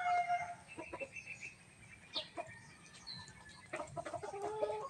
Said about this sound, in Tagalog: Ito yung mga manok na nandito sa tabing bahay